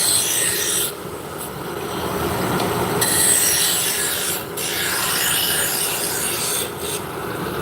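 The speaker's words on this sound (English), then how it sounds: "So I've been using a roughing gouge" A wood lathe turns a spindle as a roughing gouge cuts along it, giving a steady, loud scraping rush with brief dips where the cut pauses, close and without talk.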